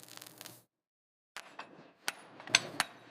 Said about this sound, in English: Now I'm using the power hammer to draw the billet out, always keeping an eye on the heat.